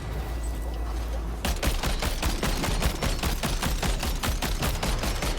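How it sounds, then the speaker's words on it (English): Vehicle-mounted gun firing in Death Stranding 2: a fast, unbroken stream of loud gunshots starts after a moment of rumbling ambience and continues steadily to the end, with no talking. "Why are we wasting so many bullets?"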